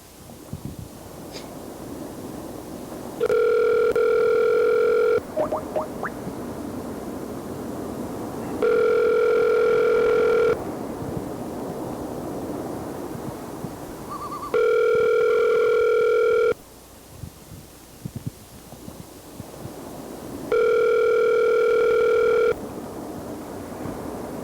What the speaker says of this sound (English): I guess I'm just gonna call him.